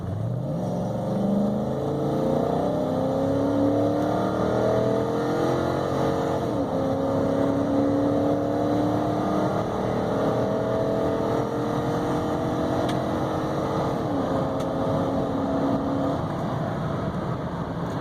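A 2007 Toyota Sequoia Limited 4x4 engine runs at full throttle for about eighteen seconds, a loud continuous roar that climbs in pitch through several repeated rising sweeps as it accelerates through the gears.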